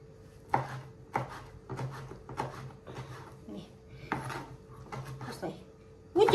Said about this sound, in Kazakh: турап осыны араластырып арасына салатын боламыз